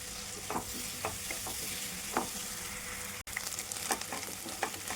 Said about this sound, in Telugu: ఇలా ఒక 2 నిమిషాలు ఫ్రై చేసుకుంటే సరిపోతుందండి